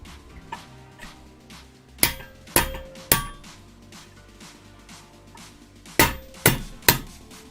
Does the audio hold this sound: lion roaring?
no